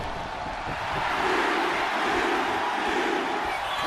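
An arena crowd in the WWE 2K25 wrestling video game cheers and roars continuously, a steady dense wash of voices building slightly and staying loud throughout with no clear speech.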